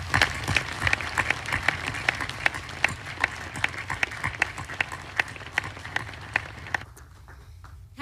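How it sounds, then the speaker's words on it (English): Graduation audience at the Army War College gives a round of applause, sharp individual claps clear in a sustained burst that thins out and stops near the end. "let's take a moment to give all those loved ones here a round of applause."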